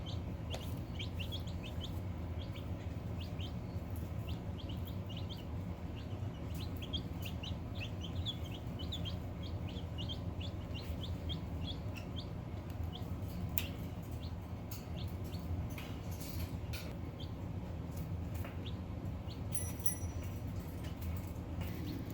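Young chicks in a brooder cluck and cheep steadily throughout, a dense run of soft peeps and chirps over a low constant hum, with no talking.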